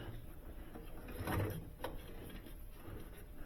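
Sub-Zero 315W wine cooler running with a loose, noisy shroud, a close mechanical rattling hum with a louder grinding swell partway through, continuous and without talk.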